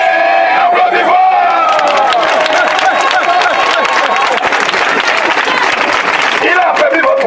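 Loud applause mixed with shouting and crowd noise, continuous throughout at a lively religious deliverance gathering.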